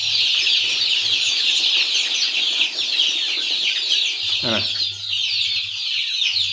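Forty-day-old chicks clucking steadily in a loud, dense flock chorus close by, with a brief spoken word partway through.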